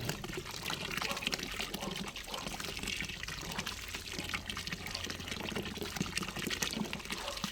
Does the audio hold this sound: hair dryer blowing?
no